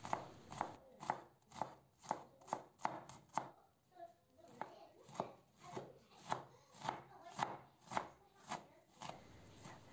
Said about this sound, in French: je l'avais épluché, je le coupe finement